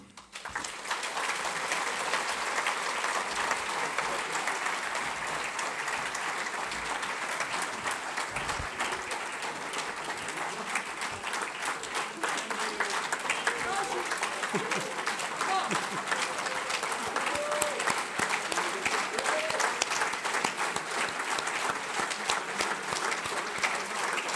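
Sustained audience applause at a French agricultural merit medal ceremony, steady and dense clapping from a large room lasting throughout.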